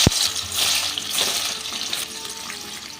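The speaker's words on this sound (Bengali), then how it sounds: "এই পনিরটা ভেজে নেব।" Cubed paneer fries in hot oil, giving a dense, steady, close sizzle with a bright hiss that stays even throughout. A sharp knock is heard at the very start.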